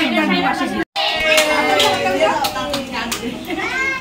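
At a child's birthday party, children clap their hands in several sharp bursts mixed with lively kids' chatter and talking voices.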